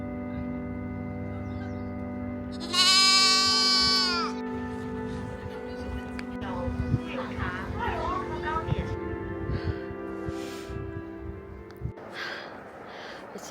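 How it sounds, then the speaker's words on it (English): Goat bleating at a tourist site in China: one loud, wavering bleat up close, followed by quieter animal snorts and shuffling noises against a steady background hum. "Hello, goat."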